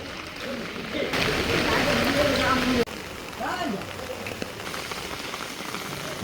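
Heavy rain pours steadily during a storm in Jaffna, a dense loud hiss of drops on surfaces that eases slightly midway, with a voice talking over it.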